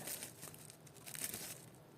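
Crinkly plastic packaging holding a vintage bracelet is opened up close, giving soft, continuous rustling and crackling at low volume with no voices.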